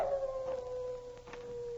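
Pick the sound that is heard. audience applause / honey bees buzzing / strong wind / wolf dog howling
wolf dog howling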